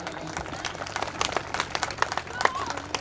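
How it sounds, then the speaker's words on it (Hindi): Audience applause at a Hindi-language stage event as a guest is honored, a dense, uneven patter of many hands clapping with crowd noise and voices mixed in. "जोरदार तालियां।"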